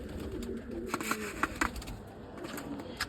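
Pigeons being let out of their loft give soft, faint coos, with a few light knocks and rustles scattered among them.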